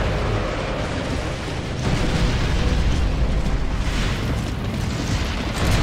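Continuous, heavy booming rumble of mortar explosions during a battle in the video game Gears of War: Judgment, loud and dense throughout with no pauses.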